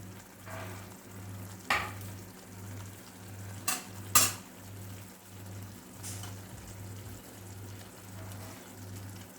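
Lemon garlic fish sizzles in a small frying pan with a steady low frying hiss, a constant hum underneath and a few sharp clicks of utensils against the pan.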